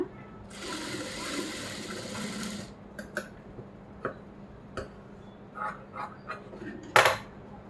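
A sewing machine stitching blouse lining pieces together, a steady whirring run for about two seconds followed by sparse ticks, clicks and handling knocks, close by with no talk.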